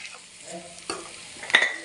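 Onions and shallots with salt frying in a pan while being stirred for a Kerala-style chicken curry, gentle sizzle broken by a couple of quick spatula scrapes near the end, close and moderately quiet.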